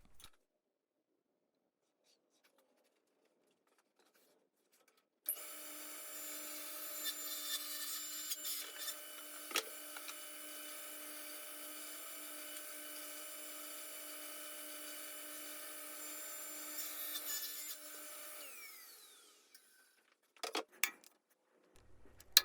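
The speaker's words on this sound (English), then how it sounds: "I'm going to pull out my crosscut sled here just to get it down to final size" A table saw with a crosscut sled slices a wooden board to final size for a corner mantle: a steady, high whining cut that starts abruptly, holds for about thirteen seconds, then winds down, followed by a few light knocks.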